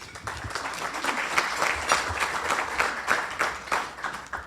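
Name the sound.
applause for speaker coming to podium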